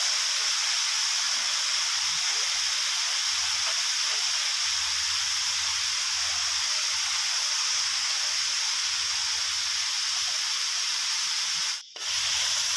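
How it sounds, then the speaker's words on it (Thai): Papaya and egg stir-fried in a wok with oyster sauce, light soy sauce and seasoning sauce over medium heat, giving a steady close hiss and scrape that runs throughout, with a brief break near the end. "เริ่ม ทำการผัดแล้วนะครับอ่า ใช้ตะหลิวตักกบไข่มาเลยนะครับ"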